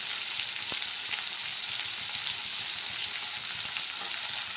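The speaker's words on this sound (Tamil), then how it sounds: "நல்லா வதக்கிட்டு தக்காளி தேவையான சால்ட்டு போட்டு வதக்கிக்கோங்க" Tomatoes sautéing with salt in a pan for sambar give a steady, dense sizzle throughout, close and fairly loud, with faint stirring ticks underneath and no talk.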